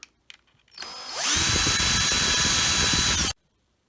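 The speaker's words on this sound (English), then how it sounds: "To drill across the piece of wood." A power drill whirs up and grinds steadily through wood for about two seconds, loud and close, then stops abruptly.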